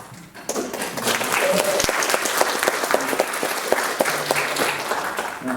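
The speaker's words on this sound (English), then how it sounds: "I think that deserves an applause," An indoor audience at a child and adolescent psychiatry e-health presentation breaks into steady applause. The clapping is moderately loud and lasts several seconds after a brief quiet start.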